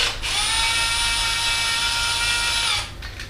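A hole saw on a power drill cutting into PVC pipe for a DIY hydroponic garden tower: one loud, steady high whine of about two and a half seconds, starting and stopping abruptly, with no voices.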